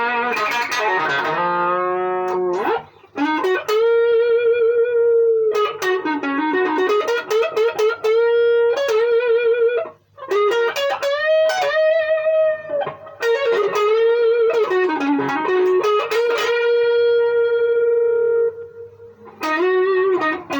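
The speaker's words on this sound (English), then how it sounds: "this is the brightest, thinnest, cleanest sounding guitar that I own" A bright, thin, clean Telecaster-style electric guitar, the AXL Player Series, played alone in a melodic run of picked single notes and chords with short pauses, loud and close with light room reverb.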